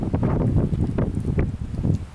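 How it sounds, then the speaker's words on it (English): Wind sweeps across a mountain spot and buffets the microphone, giving a continuous close, low rumbling roar that swells and dips throughout, with no voices over it. "Sorry for the wind, it's a little windy."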